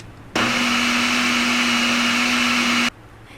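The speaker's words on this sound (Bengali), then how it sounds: "আমি টমেটোটাকে একটি ব্লেন্ডিং জারে নিয়ে নিচ্ছি, যাতে ব্লেন্ড করে একটা স্মুদি বেটার পাওয়া যায়।" A blender purees tomatoes for homemade tomato sauce, starting abruptly into a loud, steady high-pitched whir that holds for about two and a half seconds, then cuts off sharply.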